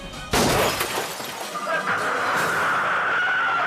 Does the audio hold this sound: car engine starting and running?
no